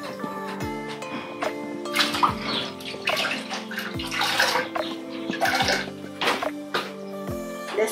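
Water sloshes and splashes steadily as cotton thread soaks in plain water before dyeing in a Maya weaving workshop at Lake Atitlan, Guatemala. Continuous and close, with tonal ringing sounds layered over it.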